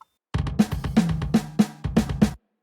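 A percussive drum roll for a gospel makossa praise instrumental builds before the full band enters, with six or so punchy hits under a steady low tone that rise in a loud, rolling pattern.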